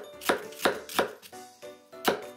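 A knife chops onion finely on a cutting board for a curry macaroni salad, five sharp, fairly loud strikes spaced unevenly with brief pauses between, close up and with no talking.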